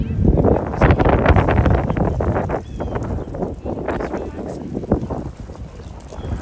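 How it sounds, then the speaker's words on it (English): Strong wind buffeting the microphone outdoors in a park in Brooklyn, in loud, continuous low rumbling gusts. "this is how windy it is out here today"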